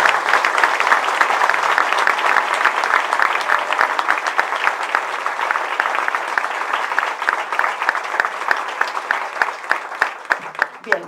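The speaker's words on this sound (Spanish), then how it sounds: "podemos darle un aplauso como público" An audience applauds steadily for several seconds, the sustained clapping thinning into a few scattered claps near the end.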